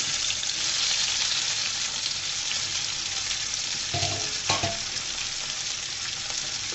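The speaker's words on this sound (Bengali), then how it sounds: "টমেটোগুলোকে সুন্দর করে ভেজে নিব" Thin tomato slices fry in hot oil, giving a steady, close sizzle that continues unbroken with a couple of brief stirring knocks midway.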